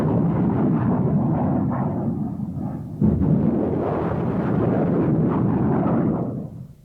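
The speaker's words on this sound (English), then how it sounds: "The MLRS, Multiple Launch Rocket System, was designed specifically to deal with enemy artillery concentrations" Loud, sustained roaring rush of an MLRS multiple launch rocket system firing, a continuous booming blast that briefly breaks and surges again before fading at the end, with no talk.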